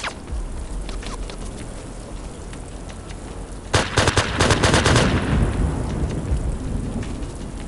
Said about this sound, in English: Guy in the watchtower jumped on his machine gun and he can really do you some damage